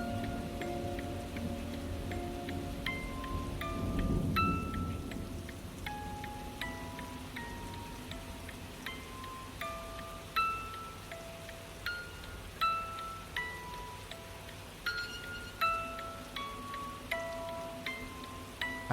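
Steady rain from a thunderstorm falls on surfaces as a sound effect, a broad hiss with a heavy low swell near the start, while soft rhythmic ticks and plinks recur throughout; no clear thunderclap stands out.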